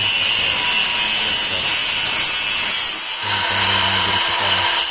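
A Dong Cheng DCSM03-100 cordless brushless angle grinder runs loudly and continuously up close with a high, steady whine, then its tone shifts near the end, with no talk.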